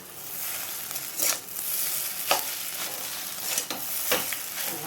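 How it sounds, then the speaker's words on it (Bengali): Chow mein with egg and potato is stir-fried in a pan, giving a steady close sizzle broken by several sharp scraping strokes of the spatula. No one speaks. "এবার ডিম আর আলুটা আমি দিয়ে দেবো, দিয়ে ওর সঙ্গে ভালো করে মিক্স করে নেবো"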